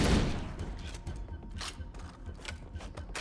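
Assault rifle fire in Halo: Combat Evolved, a series of sharp, rapid shots in short bursts at moderate loudness, with little talk over them.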